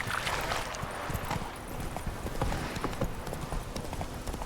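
Roach the horse gallops in The Witcher 3 video game, with steady, fast clip-clop hoofbeats close by under an outdoor background.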